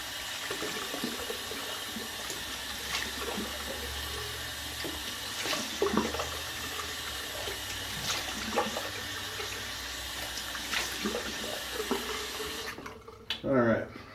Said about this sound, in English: I'm gonna go ahead and cold water rinse real fast.